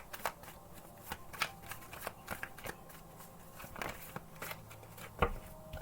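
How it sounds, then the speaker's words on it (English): Oracle cards being shuffled by hand, a close, crisp run of papery riffles and flicks with small bursts and pauses, fairly quiet, with no talking over it. "Maybe I should shuffle better"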